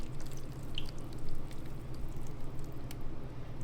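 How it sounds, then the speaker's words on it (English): Spicy chipotle sauce poured into a slow cooker for barbacoa, a soft continuous liquid trickle with faint drips, low and fairly quiet throughout. "let's pour this in here real nice and sexy like"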